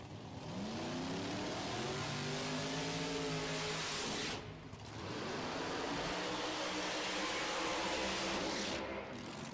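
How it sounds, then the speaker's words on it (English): Drag race cars at a PDRA doorslammer event at Norwalk roar through burnouts, engines revving loud and sustained with rising and falling pitch and a brief dip midway. "Now the burnouts are underway."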